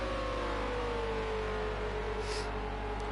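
Renault RS01 race car in Project Cars 2 at the Nurburgring short circuit, a steady high engine whine slowly dropping in pitch as it holds a long pull, fairly faint and alone.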